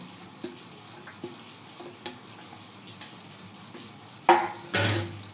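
Garlic is crushed in a small mortar with a pestle for a raw mango chutney, giving faint, evenly spaced knocks about once a second, then two heavier, louder pounds near the end.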